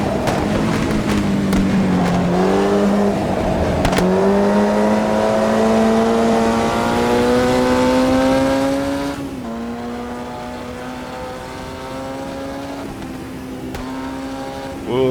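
Race car engine in the Automobilista 2 racing video game, a loud sustained drone with rising and falling pitch as it accelerates and shifts gears, heard alone and up close for the whole stretch.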